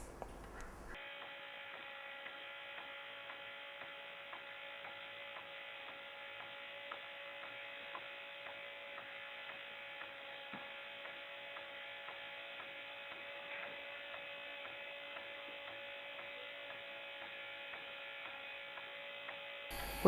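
A small electric motor spins a shaft-mounted pulley that drives a rubber belt, giving a steady, even whirring hum with a constant tone that runs unbroken from start to finish, close by and moderately quiet, with no talking.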